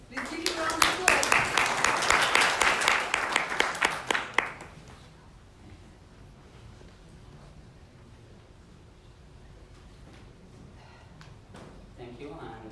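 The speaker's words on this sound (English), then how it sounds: "Please give him a round of applause." Audience at a corporate presentation on AI-powered video telematics claps for a speaker from a mobile video surveillance maker, a burst of loud applause that fades after about four seconds into quiet room tone with faint movement.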